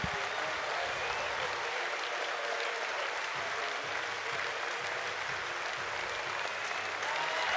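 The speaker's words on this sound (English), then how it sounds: "listen to the crowd" A baseball crowd at a Texas vs Oregon game applauds and cheers in a dense, sustained roar of clapping that holds steady throughout, with the sound of a large stadium.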